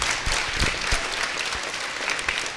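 A school audience at a district chorus concert applauds the music department helpers, with loud, dense clapping that carries on steadily from start to finish.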